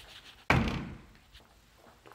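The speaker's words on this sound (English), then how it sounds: "Of course, I break the door almost." A house door bangs loudly once as it is swung open into a recently updated master bedroom, a single sharp thump that trails off into quiet room tone.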